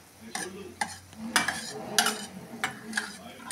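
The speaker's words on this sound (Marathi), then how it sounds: "ती जरा डाळ पळीने थोडीशी हलवायची म्हणजे ती एकजीव होते" A ladle stirs dal with tomato, chilli and hing in a pot, giving several distinct scraping, sloshing strokes at uneven intervals, close and fairly loud with a faint sizzle underneath.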